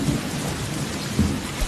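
Steady rain pours down with a low rumble of thunder during a Malayalam film scene, a dense continuous wash of sound with no speech.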